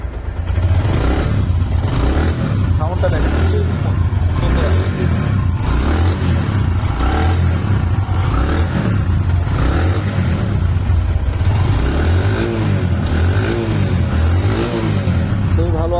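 A Bajaj Platina 100cc self-start motorcycle engine runs loud and close, repeatedly revving up and settling in a pulsing rhythm, with faint talk in the background.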